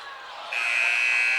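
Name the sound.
basketball game buzzer at halftime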